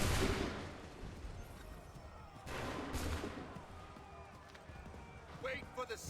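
Gunfire volley in Assassin's Creed, a burst of shots at the start followed by scattered reports and a second loud crack near the middle, with clattering movement and shouted voices underneath.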